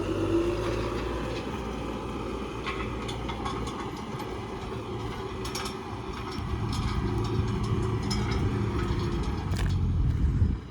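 Tractor engine running steadily as it pulls a DEFT implement across a cornfield stubble, a constant low rumble with rattling that swells slightly louder in the second half.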